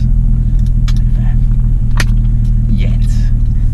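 An Infiniti G35 with its muffler deleted drones with a loud, steady low exhaust rumble heard from inside the car, while people talk quietly over it.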